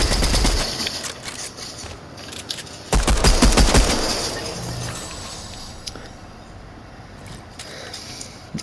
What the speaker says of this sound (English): there's also fucking people shooting us